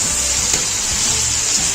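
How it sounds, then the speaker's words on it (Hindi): Chicken and tinda (round gourd) frying in a pan, a steady close hiss of sizzling oil with faint stirring scrapes and no voices. "चिकन टिंडे हमारे अच्छे से फ्राई हो रहे हैं"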